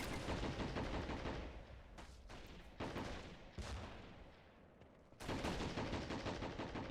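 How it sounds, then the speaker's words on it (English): An artillery strike in a WW1 real-time strategy battle at Belleau Wood: faint, distant booms and rolling gunfire crackle, with sharp blasts breaking through a continuous rumble of battle noise. "Gonna drop an artillery strike right there as well."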